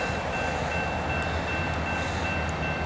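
Norfolk Southern train P60 passes with locomotives running light on the S Line in the Asheville District, a steady loud rumble with rail noise throughout and no talking.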